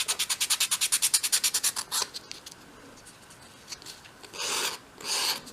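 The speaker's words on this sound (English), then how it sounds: "you can sort of use your sandpaper to get them to match" Sandpaper rubbed rapidly back and forth on a small wooden part for a 1/12th scale dolls house console table: a quick run of about a dozen even rasping strokes, then a pause and two longer, broader scrubs, close and clear.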